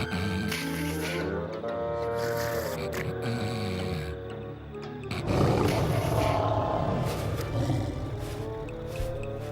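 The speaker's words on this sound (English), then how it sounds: "That lion sounds pretty ferocious and pretty close." Lion roaring close by in an outback drama scene, a deep, sustained growling roar over a dense background, swelling louder midway and continuing throughout.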